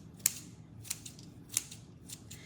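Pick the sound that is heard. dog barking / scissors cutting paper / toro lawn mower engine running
scissors cutting paper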